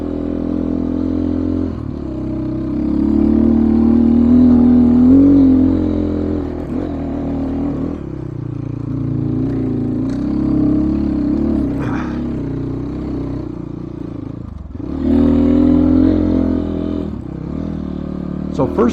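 A 2022 GPX FSE300R motorcycle engine drones and revs steadily while ridden, with a loud rise around five seconds and again near fifteen, mixed with clattering and wind.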